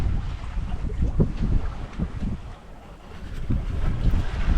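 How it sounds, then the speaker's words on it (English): Steady wind rushes and buffets the microphone while a sailboat moves on the Chesapeake Bay, with a wash of water underneath and gusts that swell and fade, loud and close. "the wind is coming out of the east-southeast"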